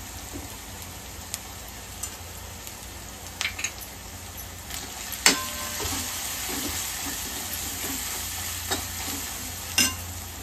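Spices sautéing in a pan for Malvani-style prawn pulao give a continuous frying sizzle, with scattered scrapes and taps from a stirring spoon throughout.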